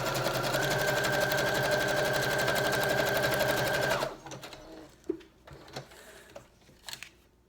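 A sewing machine stitches a lace-trimmed pocket onto a junk journal page, running loud and steady with a rapid rhythmic whir for about four seconds before stopping, followed by faint handling clicks and rustles.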